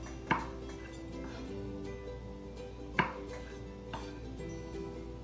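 A knife chops vegetables on a cutting board in a few sharp, separate knocks spaced a second or more apart, close and clear over a quiet kitchen background.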